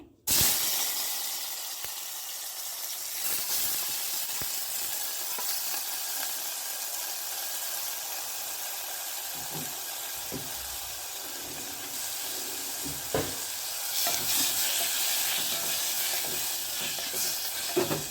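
Finely chopped tomato frying in a hot pan, a loud steady sizzle and hiss of steam with occasional stirring clatter and a few brief surges, no talking over it.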